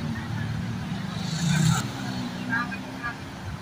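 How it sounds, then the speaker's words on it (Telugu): Tuk-tuks and other traffic rumble along a busy Bangkok street, a steady engine drone with a brief louder vehicle surge passing close, while someone talks over the street noise. "ఇక్కడ టుక్ టుక్లు అది ఆటోలు"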